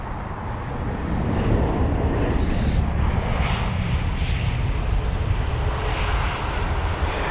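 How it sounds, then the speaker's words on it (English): Finnair Airbus A321 jet at London Heathrow, a steady broadband engine roar that swells after the first second and holds loud and near, with a brief hiss burst midway. "This is the A321 of Finnair this time."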